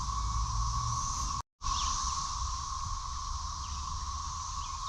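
Cicadas chorusing in Alabama woods: a dense, continuous high buzzing drone that holds steady, broken only by one very brief dropout.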